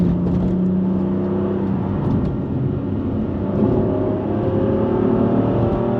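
A 2019 BMW M4 coupe's engine drones steadily from inside the cabin while driving hard in one gear, a loud sustained hum with faint rises in pitch and road noise beneath.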